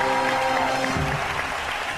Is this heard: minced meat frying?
no